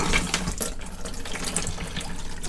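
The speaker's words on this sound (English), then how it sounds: "open this tap. And you can hear some of the water coming out" Water gushing from a motorhome tap into a sink, a close, steady rush with splashy, uneven bursts, sputtering as air clears from the system.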